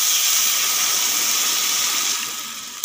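Water is poured into a pan of fried wild taro corms, giving a loud, steady rushing hiss of steam and bubbling that fades slightly toward the end.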